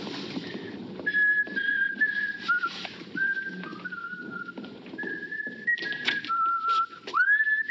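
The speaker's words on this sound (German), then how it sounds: "Du sollst doch nicht pfeifen." A woman whistles a hymn melody in clear, wavering tones, close and alone, over faint background rustle, with short pauses between phrases and a rising slide at the end.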